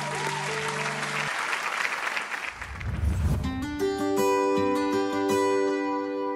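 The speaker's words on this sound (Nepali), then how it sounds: "उहाँलाई जोरदार तालीको साथ स्वागत गरौँ।" A studio audience bursts into loud applause to welcome a poet from Dhangadhi, Sudurpaschim, onto the stage of a televised poetry competition. The clapping fades as bright stage music swells.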